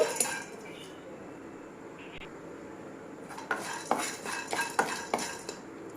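Roasted dal tipped from a pan onto a plate, quiet background hiss followed by a run of close metallic scrapes and clinks of a spoon against cookware and plate, no talking.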